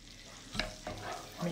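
Whole spices drop into melted butter in a large frying pan and start to sizzle, with a soft stirring scrape and a brief clink, close and moderately loud, with no voices.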